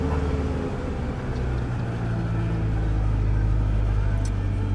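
A 1996 Ford Ranger engine runs after starting, a steady low rumble close by that thickens and grows a little louder partway through, then holds an even drone.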